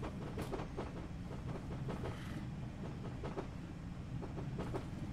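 A Q6 locomotive runs along the Weardale line, giving a steady, loud rolling rumble with regular clickety-clack wheel beats over the rail joints throughout.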